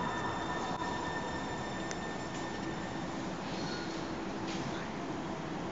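A train rumbles through a tunnel shared by buses and rail, a steady loud roar with faint wheel squeals and tonal whines over the run, no talking.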